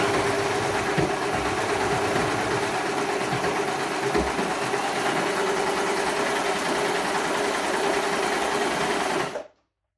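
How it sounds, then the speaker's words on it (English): A Baby Lock Desire3 overlocker runs at a steady fast rhythm, gathering a fabric strip, with a close continuous mechanical whir that stops abruptly at the end. "It is so much easier to do using your overlocker"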